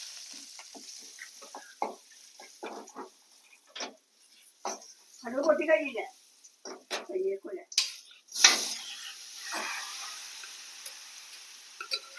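Mustard seeds spluttering in hot coconut oil with crushed dried chilli: scattered sharp pops and crackles, close and irregular, with brief bursts of spitting between quieter gaps, alongside stirring and faint pan clatter.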